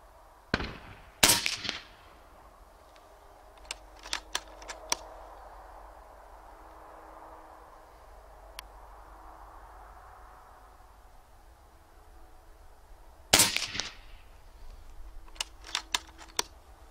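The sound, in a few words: PCP air rifle shots with Wrangler Phenom moderator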